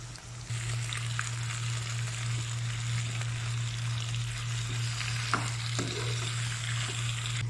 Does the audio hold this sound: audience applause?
no